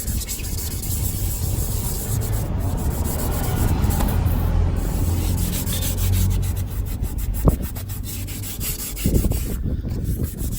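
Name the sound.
scrubbing brake caliper with abrasive pad (Scotch Brite)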